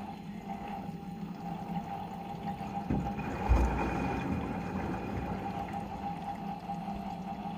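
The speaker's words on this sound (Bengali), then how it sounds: "তাহলে দেখতে পাচ্ছ যেমন জল নেওয়ার সাফিসিয়েন্ট জল নিচ্ছে এবং ক্লিনিং শুরু হচ্ছে।" An LG front-load washing machine fills with water during a cleaning cycle, giving a faint, steady rush of flowing water over a low mechanical hum, with a soft thump midway.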